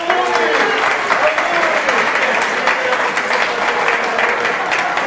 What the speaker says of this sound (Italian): gli facciamo un calorosissimo applauso